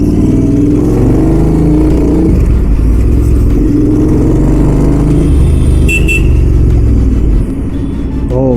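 A modified, stage-2-tuned Royal Enfield GT 650 with a 2-in-1 exhaust rumbles loudly close by, its deep engine note rising and falling through a few revs before easing off near the end.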